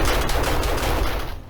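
An automated base turret in 7 Days to Die fires a rapid, dense burst of gunfire, loud and close, a continuous rattling volley that trails off at the end.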